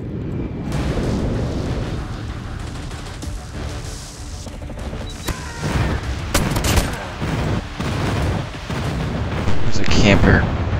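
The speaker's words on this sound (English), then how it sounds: "Enemy airstrike incoming." Airstrike explosions in the shooter game Call of Duty Mobile boom repeatedly amid bursts of gunfire, forming a loud, dense battle din that grows heavier toward the end.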